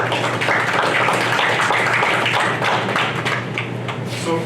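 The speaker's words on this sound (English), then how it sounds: "So a round of applause." Audience applause at an FPIC breakout session, a steady dense wash of clapping that holds for several seconds and fades slightly toward the end, with no talk over it.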